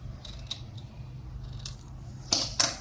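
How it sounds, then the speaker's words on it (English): Scissors cutting paper diagonally for an autumn leaf craft give a few sharp, close snips and crisp blade clicks, with the two loudest near the end, over a quiet background. "now take your scissors and cut it like this"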